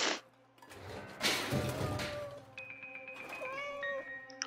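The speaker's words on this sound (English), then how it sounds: "Aw, kitty!" A cartoon cat in an animated horror short meows close and clearly a few times, with rising and falling cries, alongside other soundtrack noises.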